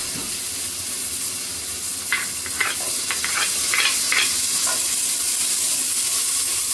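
Garlic and onion sizzle in a hot pan, a steady close hiss with a cluster of crackling pops and stirring clicks in the middle, with no talking.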